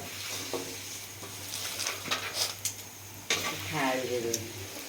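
Maize papad frying in hot oil at home, a soft sizzle with occasional scrapes and clinks, faint and close, with a voice speaking over it near the end.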